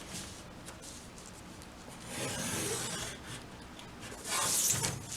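Pencil drawn along a ruler on paper while drafting a half-circle skirt pattern, a soft continuous rubbing scrape that swells in two longer strokes toward the end, close and fairly quiet with no talking.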